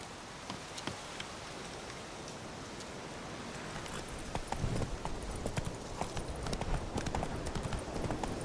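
Roach the horse clops along in The Witcher 3, hooves striking in a steady walking rhythm over a hiss of rain, fairly faint and growing busier toward the end.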